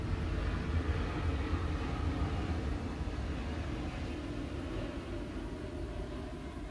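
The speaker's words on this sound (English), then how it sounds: "There's a plane over my house." An airplane passes over a house as a low, steady, distant rumble that fades slightly toward the end, with no talking.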